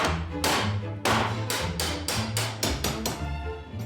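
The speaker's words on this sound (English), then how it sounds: "But when in doubt, smash it with a hammer." A hammer repeatedly strikes century-old rusted door hinges on a post office trolley, landing about eight hard, evenly spaced metallic blows close up, each with a sharp attack and short ringing decay.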